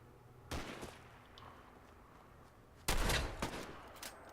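Raiders fire guns in Fallout 4, two separate loud bursts of shots with quiet gaps, the second burst stronger and followed by a few trailing cracks.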